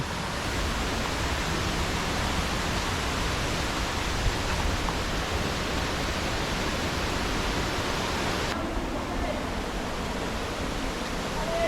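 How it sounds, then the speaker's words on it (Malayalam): A waterfall at Kadavupuzha pool in Kottayam pours as a constant, broad, hissing roar, loud and unbroken from start to finish. "അപ്പോൾ ഇതാട്ടോ ഒരു വാട്ടർഫാൾസ്"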